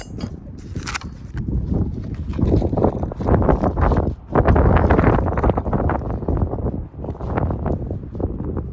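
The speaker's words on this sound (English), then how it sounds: "windy out today, so wind is blowing my camera around" Loud, continuous wind buffets the microphone, roaring and rumbling in uneven gusts throughout with no voices.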